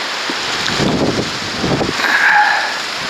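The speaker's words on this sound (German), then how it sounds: "Boah, der Wind drückt, Leute." Strong gusts of wind buffet a microphone on a cold hilltop near a waterfall in Saxon Switzerland, roaring in uneven surges and rumbling blasts that swell and ease, with no voices.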